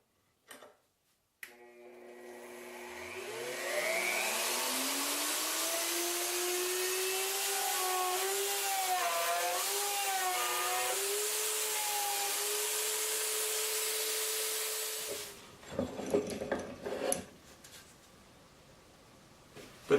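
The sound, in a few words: mortising machine cutting mortises in wood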